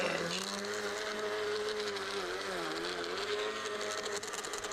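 A Husqvarna 325 trimmer cuts overgrown vegetation along an edge with a loud, close, continuous engine whine whose pitch dips and recovers as it bites into growth.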